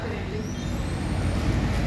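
A Jaki Buana Tour bus rumbles close by, a loud broadband engine and road roar filling the short moment with a hissing air-brake edge, with voices underneath.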